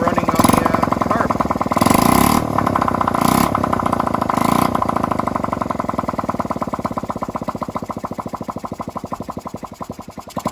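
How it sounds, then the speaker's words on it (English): A Honda Z50R minibike engine runs on its carburetor after being kick-started, giving a steady close, rapid putter with a few sharp revs early on before it settles to a lower, even idle; voices are heard faintly. "It's now running on the carb."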